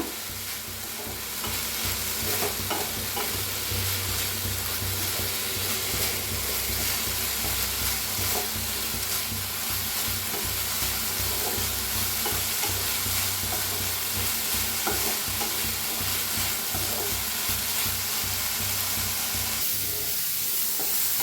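Chaat ingredients roast in hot ghee in a pan, giving a steady, close sizzle and hiss. A spoon stirs and scrapes at them repeatedly, and no one speaks.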